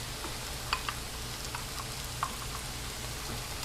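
Butter melts and sizzles in a pot, about six to eight tablespoons added to the pan, giving a soft, steady frying hiss with a few sharp pops over a low hum, close and quiet.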